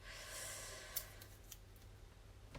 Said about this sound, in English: now I'm going to cut out these shapes